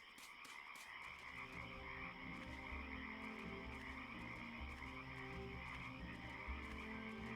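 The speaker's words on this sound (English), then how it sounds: "God, those frogs. Goddamn frogs." Frogs croaking in a video game, a dense chorus of rapid, rhythmic croaks that continues steadily throughout, clear and alone with no talking.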